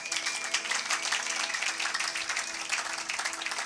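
A church congregation claps and applauds in praise of God during a French-language sermon, a steady dense patter of many hands filling the room with no break.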